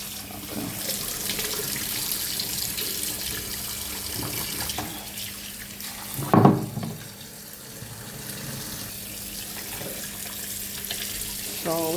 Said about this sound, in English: We're just washing off the excess salt of it.